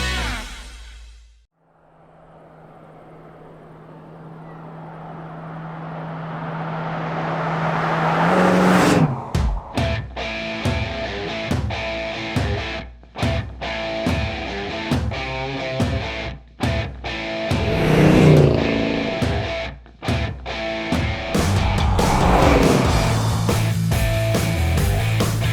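A 1970 Plymouth Superbird muscle car engine cranks, catches and roars, then revs repeatedly in loud rough bursts with sharp cuts between them, close and with no talking.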